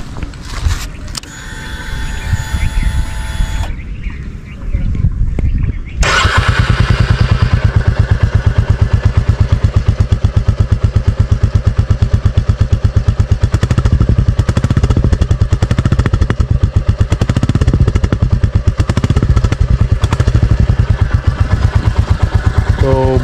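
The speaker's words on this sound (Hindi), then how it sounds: "द बुलेट 350 एंड साइलेंसर, तो आपको इसका साउंड भी सुना देते हैं।" A Royal Enfield Bullet 350 motorcycle, black gold edition, starts up after a brief clatter and then its engine and silencer run steadily and loudly near the listener, giving a continuous low, even thump for about seventeen seconds.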